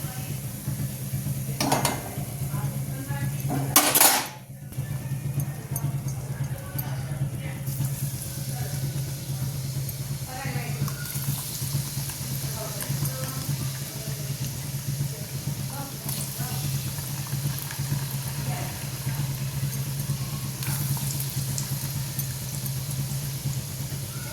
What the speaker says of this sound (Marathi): आणि आता आपण मंद आचेवर छानपैकी तळून घ्यायचे.